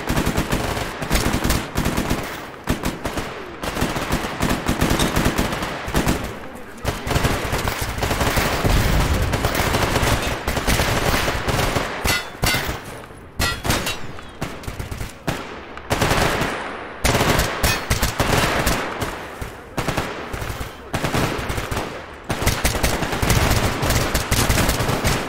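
Sustained automatic gunfire in S.T.A.L.K.E.R. Anomaly, loud, close bursts of rapid shots with brief pauses between volleys, continuing throughout without talk.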